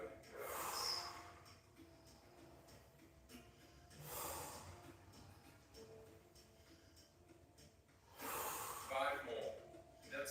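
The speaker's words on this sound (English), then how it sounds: "Nice, deep, circular breaths." Deep circular breathing during a yoga exercise comes as three slow, airy breaths spaced a few seconds apart, fairly close and soft, with quiet pauses between them.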